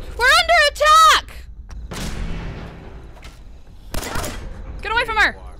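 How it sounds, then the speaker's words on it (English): Gunfire in the video game Fallout 4 comes as two rough bursts of booming shots, mixed with excited shouting voices before, between and after. "Why was there shooting? We're under attack!"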